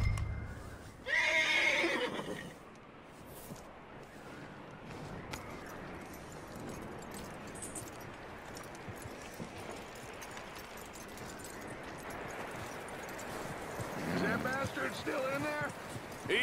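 A horse whinnies loudly near the start and again toward the end in Red Dead Redemption 2, with steady hoof clatter and ambient noise between and a voice speaking.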